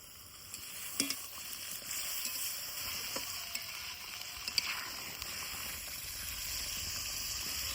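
Spices fry in fish oil in a Bengali kitchen, a steady sizzle with soft scraping and a few clinks of the stirring spoon, faint and continuous with no talking.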